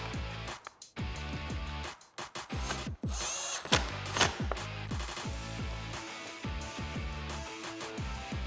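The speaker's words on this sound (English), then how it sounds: "I'm gonna take my Phillips and tighten them with my 10 millimeter wrench." A powered driver tightens bolts on a 2015-2017 Mustang GT500-style front bumper, making repeated short whirring runs with clicks and brief pauses between them, close and loud.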